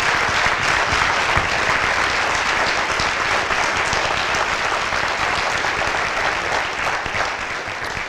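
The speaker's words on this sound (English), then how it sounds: "if we give these guys a round of applause." Sustained, dense applause from a crowd welcoming home a high school basketball team, steady and loud throughout with only faint voices underneath.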